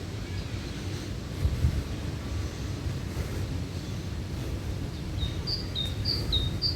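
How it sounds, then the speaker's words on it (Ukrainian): Faint birdsong of short chirps drifts in near the end over a steady rush of wind and low rumble outdoors. "А пташки співають."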